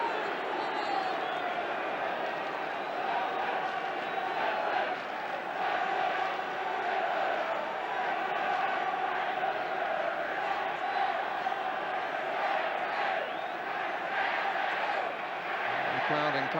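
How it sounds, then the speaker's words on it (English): Football crowd at a Coventry City v Liverpool match, a dense sustained roar of many voices with shouts and chanting, steady and fairly loud, with faint commentary-like talk mixed in. "Crowd encouraged by that near thing"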